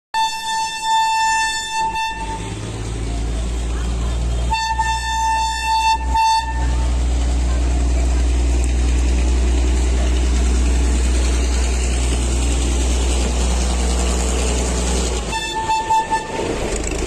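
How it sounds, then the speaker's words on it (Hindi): An old British-era diesel rail bus on the Vrindavan–Mathura line sounds loud, repeated horn blasts over a steady, heavy diesel engine rumble as it pulls away, with three separate horn bursts spread across the run. "ये ट्रेन आगे बढ़ेगी अब।"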